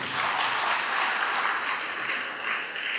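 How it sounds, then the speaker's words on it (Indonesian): Sustained applause from a congregation honouring the bishop at a priest ordination ceremony in Senopi, a dense steady clatter of many hands lasting throughout without voices. "kita tepuk tangan ke Bapak Uskup dulu"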